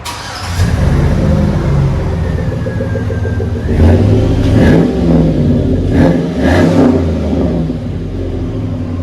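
A 2005 Chevy Avalanche with a 5.3L V8 and dual exhaust through Flowmaster 40 Series mufflers, loud and close, idling with a deep rumble before several throaty revs rise and fall, no talking.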